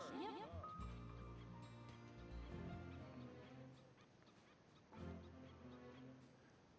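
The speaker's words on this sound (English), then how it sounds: "That's a lot of cows." A herd of cows in the video game Little King's Story lowing and bleating over one another, several overlapping cartoonish calls in a steady busy chorus, with no talking.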